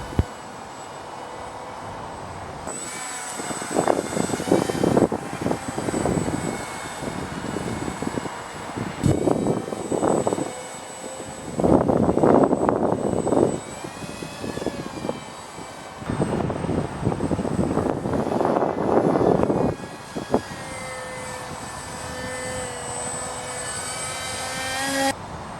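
Small radio-controlled stealth fighter model airplane flying, its electric motor buzzing and whining with repeated louder surges as it passes near, then fading back to a steady distant drone.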